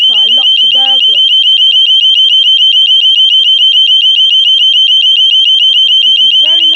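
Burglar alarm sounding at a rubbish dump, a piercing continuous high electronic tone pulsing rapidly and very loud throughout, with someone talking briefly at the start and end.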